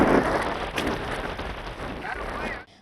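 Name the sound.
unseasonal rain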